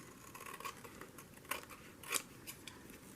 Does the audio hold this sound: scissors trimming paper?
yes